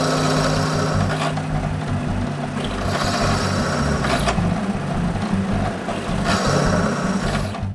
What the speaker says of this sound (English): I find where to drill the bottom holes and drill them